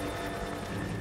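In the video game Rise of the Tomb Raider, a helicopter arrives with a steady, loud rotor drone that fills the short moment without a break.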